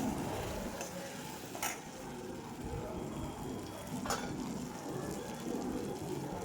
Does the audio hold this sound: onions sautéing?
yes